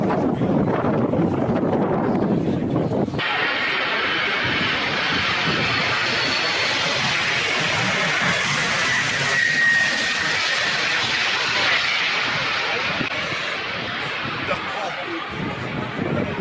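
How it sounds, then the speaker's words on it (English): An Antonov An-225 comes in to land in a crosswind, its engines making a broad, loud roar mixed with gusty wind buffeting that carries on without a break. "Let's see how this pilot handles the landing of the Antonov 225."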